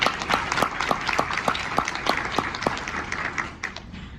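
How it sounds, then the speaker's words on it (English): An audience at a stakeholder breakfast applauds, a dense round of clapping from a modest room of people, with a few distinct hand claps marking a loose rhythm before it tapers off toward the end. "let's just give everybody a round of applause for all the work"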